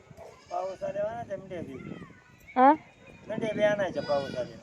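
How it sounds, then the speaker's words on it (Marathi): Goats bleat in a village pen during rain, with several close, wavering calls and one loud sharp bleat, mixed with people talking nearby. "शेळ्या वाड्यात येतो"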